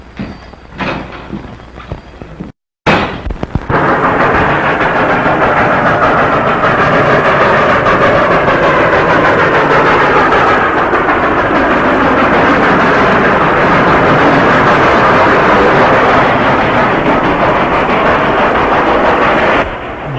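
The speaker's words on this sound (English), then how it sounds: "It's a ghost train, all right." A steam train runs on a 1938 western film soundtrack, a loud, continuous rolling rumble and rattle that starts abruptly after a brief cut and holds steady throughout.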